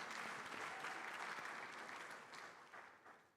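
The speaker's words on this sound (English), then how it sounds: "Please give them a round of applause." Audience applause for the panelists at the 30th Afreximbank Annual Meetings 2023, a steady, dense clapping that fills the room, fairly distant and soft, tapering slightly toward the end.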